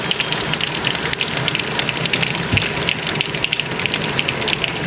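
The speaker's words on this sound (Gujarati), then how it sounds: "વરસાદ બહુ હેરાન કરે છે" Steady rain pours down in a rural Gujarati village setting, a dense continuous hiss of water with splashing and gushing, loud and close, holding level throughout with no voices.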